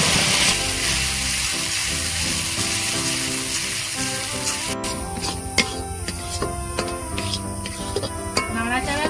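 Pointed gourd paste dropped into hot oil tempered with nigella seeds and chopped green chilli, a loud hissing sizzle that settles into crackles and small scraping clicks as it is stirred.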